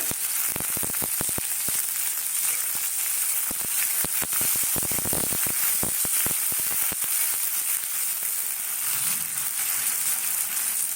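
Bay leaf and chilli sizzling in hot oil, a steady dense crackle and hiss with irregular pops, close and continuous throughout.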